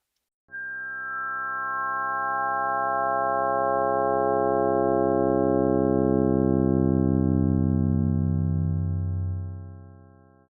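A single steady cluster of frequency-shifted partials with no clear pitch, swelling slowly to full strength and holding before fading out near the end, a synthetic inharmonic drone heard alone.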